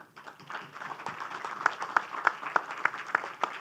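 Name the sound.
audience applause at a literature festival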